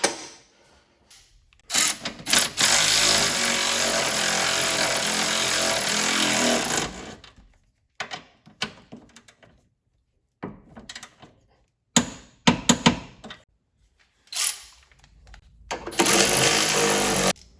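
A power wrench works on the rear suspension links of a Mustang, with a long, loud, steady mechanical burst followed by several shorter rattling bursts separated by silence.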